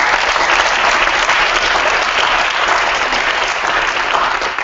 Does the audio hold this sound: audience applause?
yes